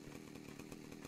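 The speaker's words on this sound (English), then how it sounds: "Put the chainsaw away." A chainsaw in ARK Survival Evolved drones steadily and loudly for about a second, a dense buzzing engine tone with no talk over it.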